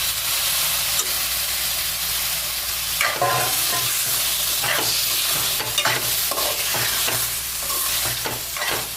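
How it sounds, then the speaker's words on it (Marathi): Marinated prawns frying in a masala for kolambi masala, a loud continuous sizzle with repeated scraping stirs of a spoon against the pan, close and steady throughout. "आता आपण यामध्ये टाकूया मॅरिनेट केलेले प्रॉन्स"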